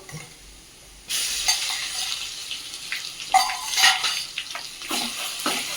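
Ginger garlic paste dropped into browned onions frying in oil for chicken curry: a sudden burst of sizzling after a quiet start, then continued crackle with stirring and clinks of a utensil against the pan.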